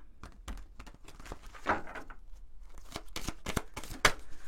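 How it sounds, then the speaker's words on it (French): Oracle cards from a light-themed deck are shuffled by hand, giving a run of quick crisp riffling and flicking bursts close up, with a brief softer slide in the middle. "On va prendre quelques cartes de l'oracle de lumière."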